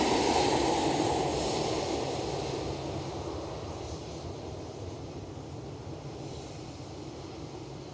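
Transavia airliner at Amsterdam Schiphol Airport, a broad, steady engine rumble that is loudest at the start and slowly fades as the aircraft moves away, with some wind noise and no voices.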